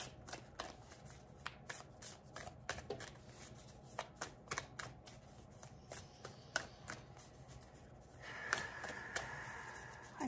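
Oracle cards from the Sacred Destiny deck being shuffled and pulled, a fast series of soft riffling flicks and slaps, close but quiet, ending in a short burst of louder card handling.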